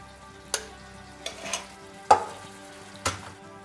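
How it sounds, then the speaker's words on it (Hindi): Coriander and red chilli powders roast in a pan for paneer masala, with a soft background sizzle punctuated by five sharp scraping strokes of a spoon stirring through the mixture. "हमें मसालों को अच्छे से भूनना है 2 से 3 मिनट के लिए"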